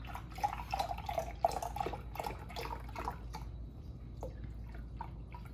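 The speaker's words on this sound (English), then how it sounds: "Okay, now we need to add our 1 cup of beef broth." Low sodium beef broth poured into a pot for shredded pork tacos, a steady close liquid splash and dripping trickle running for several seconds with no talk.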